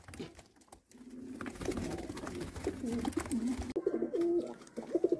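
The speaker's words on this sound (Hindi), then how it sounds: "देख लीजिए जे भी फ्लायर कबूतर हैं" Several flyer pigeons coo softly and repeatedly in low, throaty bursts, with faint background noise around them, in Jammu.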